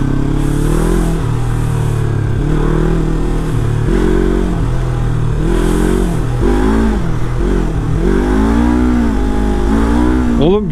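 A motorcycle engine runs continuously and loudly during a ride, not running cleanly, its pitch rising and falling as the throttle changes, with a rapid rev near the end.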